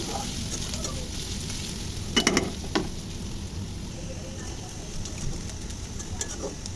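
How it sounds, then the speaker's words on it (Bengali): Chopped onion and green chili fry in a wok (kadai), a steady low sizzle with a few sharper spatula clinks and scrapes partway through. "তারপর একটা কড়াইতে নিয়ে নিয়েছি পেঁয়াজ কুচি আর মরিচ কুচি এটাকে ভেজে নিলে"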